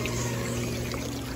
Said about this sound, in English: Bubbles.